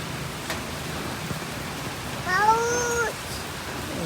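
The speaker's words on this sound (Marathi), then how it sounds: "काही सकाळी सकाळी पाऊस चालू झालाय." Morning rain falls as a steady soft patter, with a cat's drawn-out meow rising briefly over it near the middle.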